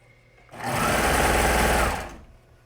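A sewing machine stitches a jersey shoulder seam in one short burst lasting about a second and a half. The run is loud, close and steady, with quiet before and after.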